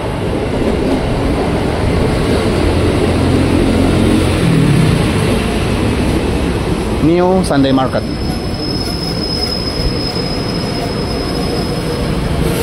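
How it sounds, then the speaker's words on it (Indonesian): A ten-car JR 205 commuter train pulls into Pasar Minggu Baru station in Jakarta. A loud, steady rumble carries a brief burst of wavering wheel squeal and a lingering high whine, with a voice speaking over it. "Kita bakal naik ya, komuter lain tujuan Jakarta Kota."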